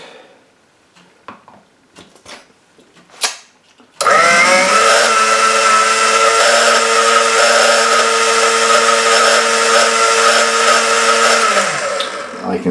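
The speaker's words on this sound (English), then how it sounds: "It might be an old blender, but it really works." An old blender whirs loudly and steadily, blending a strawberry ice cream mixture with vanilla bean paste, starting abruptly after a few faint kitchen clatters and running about eight seconds before winding down.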